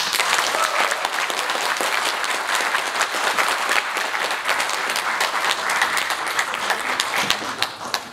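A lecture audience in a hall claps warmly after a history talk, dense sustained applause from many hands lasting the whole stretch, close and loud with no voices over it.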